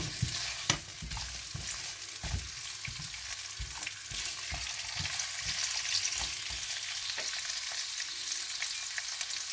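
Carrots and other vegetables stir fried in soy and oyster sauce on high heat on an electric hob, a constant sizzle broken by repeated scraping and clattering stirs, with no talking.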